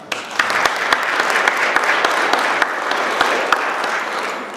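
An audience gives a round of applause, steady close clapping with sharp individual claps standing out from the crowd's continuous patter.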